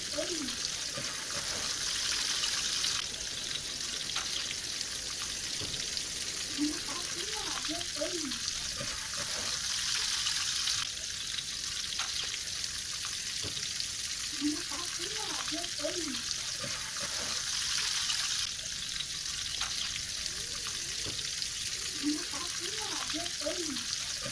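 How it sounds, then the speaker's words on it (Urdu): Kebabs lightly frying in a pan, a soft steady sizzle running throughout at low level, with a voice speaking over it at intervals. "کبابوں کو چاروں طرف سے ہلکا ہلکا فرائی کر لیں"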